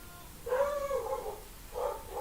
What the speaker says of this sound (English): the dogs are a lot noisier in this house than the last one